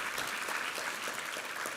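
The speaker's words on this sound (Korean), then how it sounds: "우리 하나님께 감사와 영광의 박수 올려드리겠습니다." A church congregation at a Sunday worship service claps steadily and densely, a sustained wash of applause filling the room with no voices standing out.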